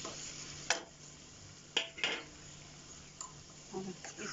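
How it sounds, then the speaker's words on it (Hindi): Beetroot and softened tomatoes are stirred and mashed in a cooking pan, with a spoon scraping and knocking against the metal in a few separate strokes over a faint sizzle nearby. "इसको अच्छे से मैश कर देती हूँ, मिला देती हूँ ताकि मसाले सारी सब्जी में मिल जाए।"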